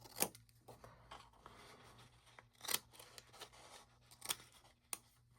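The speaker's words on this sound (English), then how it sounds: "Now I'm going to open it back up. I'm going to miter that just a little bit." Scissors snip a small miter into a paper flap, a few crisp, quiet cuts spaced apart with soft paper rustling between them and no talking.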